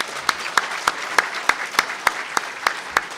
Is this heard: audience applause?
yes